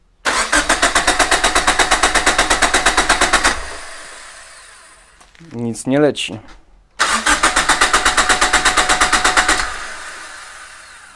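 A cogenerator engine cranks with a rapid rhythmic chugging, stops while a person speaks briefly, then cranks again in another long chugging burst.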